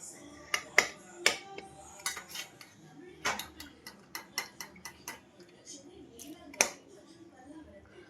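Cumin and potatoes being stirred in a pan, heard as light, irregular metallic clinks and scrapes of a utensil against the pan, faint and close, with quiet talk in between.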